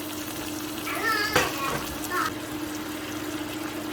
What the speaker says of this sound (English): I just literally put a little bit of pasta water in there